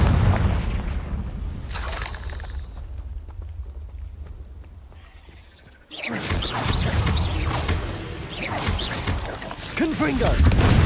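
A Confringo blasting curse explodes in Hogwarts Legacy, a sudden loud, booming burst that cuts through a quieter stretch and leaves a dense, crackling, rumbling aftermath with scattered impacts.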